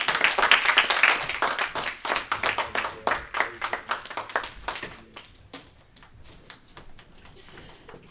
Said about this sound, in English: Hand clap.